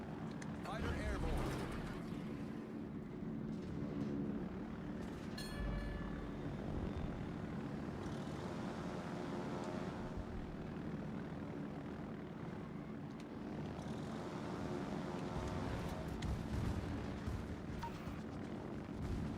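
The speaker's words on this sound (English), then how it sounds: "Fighter airborne." Fighter aircraft fly in the naval battle game World of Warships, a steady droning engine roar over continuous battle rumble, with a person talking over it throughout.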